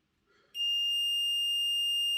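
A multimeter in continuity mode, probes touching the brushes of an electric motor, lets out a sudden, steady high-pitched tone that starts after a faint rustle and holds loud and unbroken to the end.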